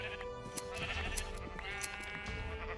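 Sheep in the Minecraft video game bleat repeatedly, several overlapping calls in quick succession, clear and close with no talking.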